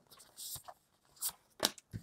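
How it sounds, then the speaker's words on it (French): Tarot cards drawn from a deck one at a time, three soft papery flicks and slides in a quiet room, close and faint, with a few light handling rustles between them. "Allez, on va aller prendre 3 cartes."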